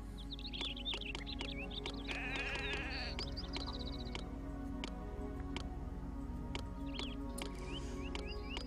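Sheep in the video game Zeus bleat in repeated short calls over a steady low game hum, with regular ticking clicks scattered throughout.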